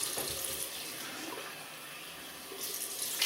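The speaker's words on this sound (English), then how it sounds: "Cold water rinse." Cold water runs steadily from a tap into a sink for a rinse after a wet shave, a close, continuous splashing hiss with slight surges near the end.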